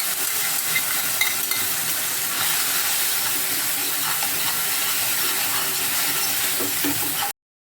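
Loud, continuous sizzling and hissing of onion and red chili frying in hot oil as a tempering for chutney, with occasional stirring clatter, cutting off abruptly at the end.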